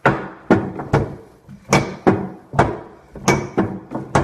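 Repeated sharp metallic clunks and thunks, about a dozen in steady uneven rhythm, from a hand-cranked press forcing a bare axle into a Cromotor ebike hub motor, close and fairly loud with no talking.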